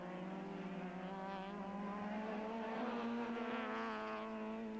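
Touring race cars from the 1994 South African Touring Car Championship, including a Nissan, battling for position at Zwartkops circuit, with loud, continuous engine drone rising and falling in pitch as the cars rev hard through the gears.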